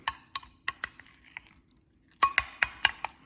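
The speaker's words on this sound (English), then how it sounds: "we're going to take about 1/4 of a cup of our cucumber, and we're going to stir that in" A utensil stirring cucumber into tzatziki in a bowl, heard as a series of distinct clinks and taps, sparse at first, then a denser run of close, crisp strikes after a short pause.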